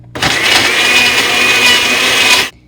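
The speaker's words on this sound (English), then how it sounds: "I'm using the pulse feature on my blender to break up the ice." A countertop blender pulses to crush ice for a vegan protein shake, giving a loud, close, steady motor whine with a coarse grinding edge that runs for about two seconds and then cuts off abruptly.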